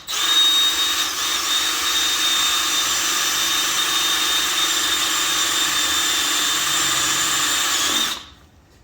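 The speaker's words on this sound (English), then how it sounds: "What I do is I just drill into it" Power drill boring steadily into a transmission seal during an MT82 manual gearbox teardown, a loud continuous high-pitched whine with a bright tonal line that runs unbroken for about eight seconds, then cuts off and leaves a faint room tone.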